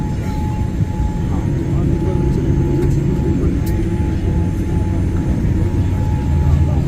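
Steady broadband cabin drone inside an Air India Boeing 787 Dreamliner on a very hot day in Delhi with the air conditioning not working, a constant engine and airflow hum throughout with faint scattered clicks.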